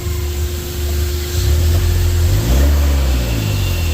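Mitsubishi L300 Euro 4 turbo engine revving up and back down, a loud close rising and falling roar with a turbo whine and a steady hum underneath.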